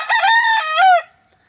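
A rooster crows once in a long, loud, close cock-a-doodle-doo lasting about a second, then falls silent.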